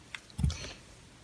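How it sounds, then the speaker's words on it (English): A pet bird chews on a wooden toy log, making a few soft, close crunchy bites and clicks with one louder gnaw in the middle, otherwise quiet. "And he's chewing on it good."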